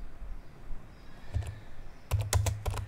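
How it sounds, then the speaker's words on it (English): A few faint key presses, then a quick burst of crisp clicking keystrokes on a computer keyboard, entering a command on a Windows 11 PC in a quiet room. "type the commands very carefully and hit enter to execute them"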